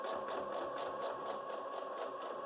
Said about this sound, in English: Now I will do a few back stitches here.